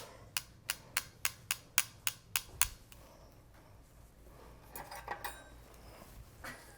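Metal tongs tapping and clinking against an Instant Pot while pork loin is lifted out, about nine quick bright clinks in a steady rhythm, then a pause and a few softer clinks, close and clear.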